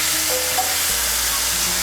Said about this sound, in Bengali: এই তেলের মধ্যে আমি বেগুনগুলো ভেজে নেব।